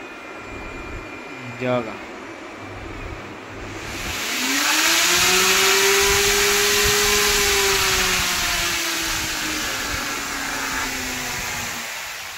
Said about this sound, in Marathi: एक आवाज यायला लागतो मोटरीचा. जसं स्पीड वाढवतो तशी मोटर वाढते.